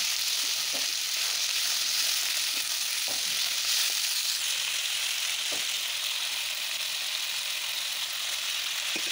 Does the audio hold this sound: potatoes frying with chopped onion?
yes